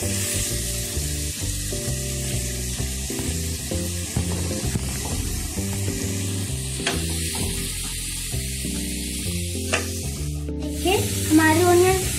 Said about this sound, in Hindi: अब हम इसमें प्याज डाल देंगे, अब हम इसको अच्छे से फ्राई कर लेंगे।